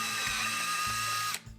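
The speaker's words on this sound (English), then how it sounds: "I'm going to take a drill and drill that out so that I have a clearance hole there." A drill bores resin bedding compound out to open a clearance hole for a rifle guard screw, whining steadily with high harmonics, then cutting off abruptly near the end.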